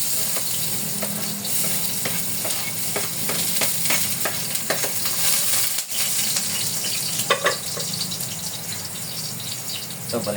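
Onion and garlic frying in a pan for calderetang corned beef, a steady broad sizzle with repeated scraping stirs and light clinks running throughout, close and fairly loud.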